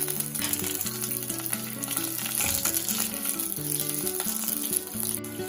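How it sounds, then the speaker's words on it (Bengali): Dried red chillies and curry leaves sizzle hard in hot oil for a South Indian sambar, a dense, continuous crackle up close with occasional stirring, under background music. "এবার এগুলো ভালো করে ফ্রাই করে নেব।"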